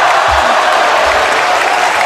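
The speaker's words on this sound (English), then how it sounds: "that's getting a reaction from the crowd" A crowd at a polytechnic basketball game between Nanyang Poly and Singapore Poly roars in a loud, continuous wash of cheering and applause with no pauses.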